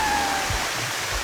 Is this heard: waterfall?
yes